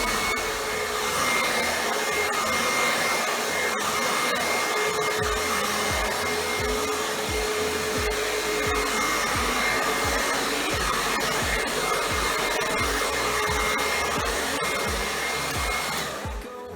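A hair dryer blows on a boy's freshly relaxed hair with a loud, constant whirring roar that holds steady for about seventeen seconds before cutting off at the end.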